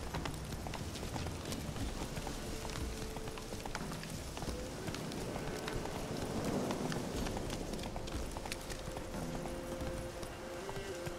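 Hooves of Roach, a horse in The Witcher 3, thud in a steady galloping clip-clop under continuous game ambience, moderately loud throughout.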